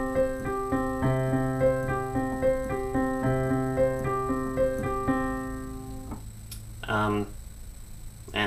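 Piano playing the repeating chord pattern from a song, steady sustained chords struck in an even rhythm, close and clear, with a brief clatter near the end.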